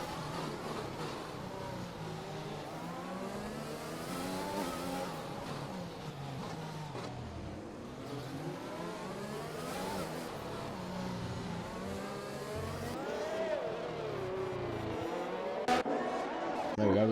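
F1 race cars in a racing video game at Monaco, engines whining and revving continuously as cars overtake one another, with commentary voices talking over the engine noise throughout.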